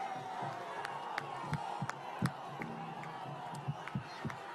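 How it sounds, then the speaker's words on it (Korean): A crowd at a presidential campaign rally in Bucheon, South Korea, cheering and shouting from a distance, a continuous roar with sporadic louder whoops and rhythmic chant bursts throughout. "이 응원의 함성 잊지 않겠습니다"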